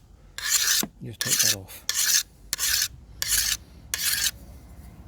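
A hand file rasps across a scythe blade during sharpening in six or so distinct strokes, each a harsh close scrape separated by short pauses, with someone speaking briefly between them.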